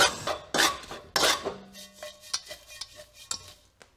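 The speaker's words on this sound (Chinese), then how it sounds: "然后开小火将食用盐炒香，炒至微黄。" Dry salt with Sichuan peppercorns, star anise and cinnamon bark is stirred in a wok over low heat, giving close, gritty rasping scrapes in an irregular rhythm that thin out into lighter scattered scratches.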